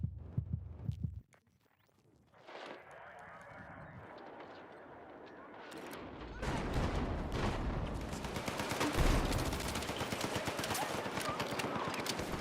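Battlefield 6 gameplay gunfire, a dense stretch of rapid, crackling shots and explosive bursts that start sparse and build into a loud, continuous barrage.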